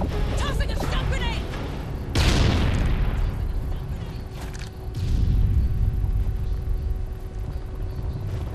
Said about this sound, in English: Tossing a stun grenade!